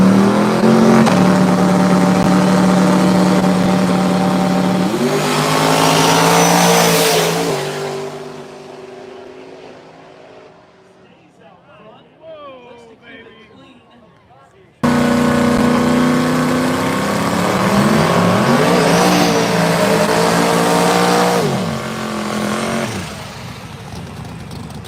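At a no-prep True Street drag race, a 1970 Dodge Dart and a 1992 Ford Mustang roar off wall to wall. Loud engines scream and shift gears, then fade into the distance before another loud engine passage follows.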